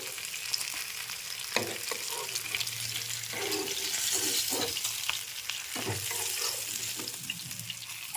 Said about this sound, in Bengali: আমি বাকি মাছগুলোকে ভেজে নেব